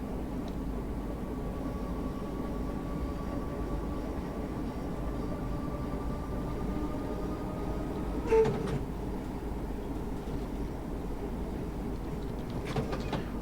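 A Class 313 electric train in Train Sim 2020 climbs a gradient with a steady low rumble and faint whining tones, broken around the middle by a brief knock or clatter.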